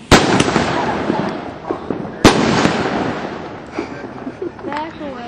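A firework grenade bursts with two sharp, loud explosions about two seconds apart, each followed by crackling and rumbling echoes, set off outdoors among trees while people talk in the background.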